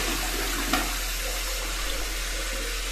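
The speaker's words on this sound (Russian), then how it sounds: "Вот эту воду в унитаз." Water pouring into a toilet in a workplace restroom, a steady, close, loud rush that runs throughout with no talk.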